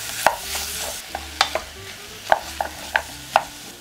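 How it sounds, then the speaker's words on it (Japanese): Pork thigh meat is stir-fried in butter and broken apart in the pan, with about eight sharp scraping and clacking utensil strokes over a soft, steady sizzle and no voices. "そしたらお肉は塊をほぐすようにしながら炒めていきましょう。"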